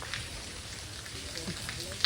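Steady rain falls at Girnar as a group sets out to climb in the downpour. It makes a soft, continuous hiss and patter, with faint voices in the background.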